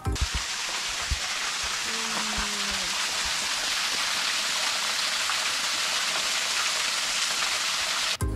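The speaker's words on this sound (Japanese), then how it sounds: "階段降りたところになんか滝みたいな感じになってて、そこのね滝の音がちょっといい感じでした。" A small waterfall below stone steps at Hiyoshi Taisha shrine, a continuous rushing splash of falling water, steady and close, with a brief faint tone near the start.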